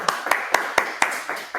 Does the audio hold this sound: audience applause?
yes